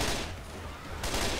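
Gunfire in the Left 4 Dead 2 multiplayer game, a dense, continuous burst of rapid shots that fills the whole moment, loud and close, with no talk over it.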